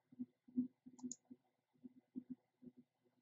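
Quiet mouse clicks at a computer, submitting a cart in dental lab design software, heard as a few sparse soft clicks close by over faint low thumping taps.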